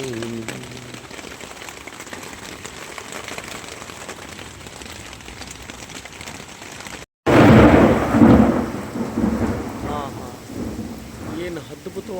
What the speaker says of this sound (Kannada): ಏನು ಅದ್ಭುತವಾಗಿ ಮಳೆ ಕೊಟ್ಟಿದ್ದೀರ.